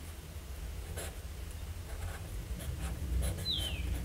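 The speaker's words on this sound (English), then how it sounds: "Let's do a writing sample." A Kaweco Classic Sport fountain pen in olive green with gold trim and a broad nib scratches faintly across paper, with a few soft strokes and a short sharper squeak near the end over a low background hum.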